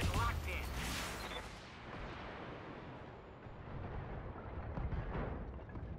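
A Shadowhawk mech fires its AC-5 autocannon in BattleTech, opening with a sharp booming blast that decays into a long rumbling tail while a voice talks quietly underneath.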